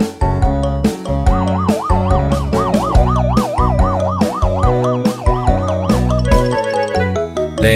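An ambulance siren wails, warbling up and down over bouncy children's music with steady beats and chiming notes, loud and continuous throughout.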